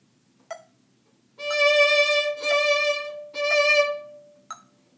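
A violin plays the first measure of Bach's Minuet 1: a plucked-sounding tick, then three sustained bowed notes in a row, ending with a short sharp note, clear and close with no talking.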